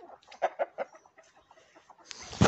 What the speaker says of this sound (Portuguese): Então, galinha da criação.